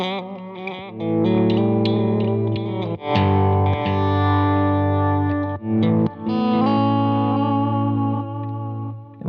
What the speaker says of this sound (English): let's take that patch that we just made, envelope filter into a volume swell